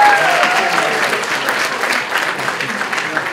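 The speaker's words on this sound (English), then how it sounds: "Give another round of applause" A steady burst of loud applause fills a room after a team presents at a hackathon's final demo night, dense clapping from a crowd without a break.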